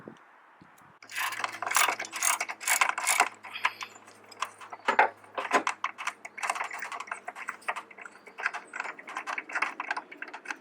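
A ratchet loosens a 10 millimeter bolt on a motor mount of a 1998 to 2002 Honda Accord, making a close, dense run of quick clicking strokes in uneven bursts, with no talking.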